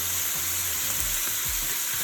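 Chicken pieces sizzle and fry steadily in a hot pan for Jamaican brown stew chicken, a close, even crackle with faint low clunks of the pieces being turned, no voices.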